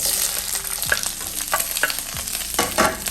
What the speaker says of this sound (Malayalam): ഇതെല്ലാം കൂടെ അങ്ങോട്ട് ഇട്ട് കൊടുക്കുകയാണ്